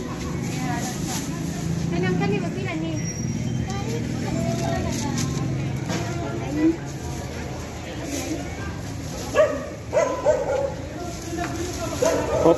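A puppy lets out short, scattered barks and yips with some whimpering while people talk nearby, over steady street and traffic noise outside a pizza restaurant in Lapu-Lapu, Cebu.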